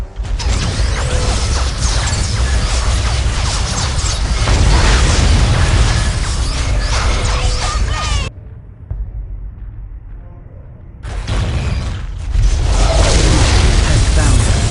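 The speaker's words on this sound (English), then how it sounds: "We are under enemy fire." Battle in Warhammer 40,000: Dawn of War – Soul Storm on the Coastal Imossa map, with Eldar forces taking enemy gunfire and explosions: dense, loud mechanical clatter and booms, briefly dropping away mid-stretch before the din resumes.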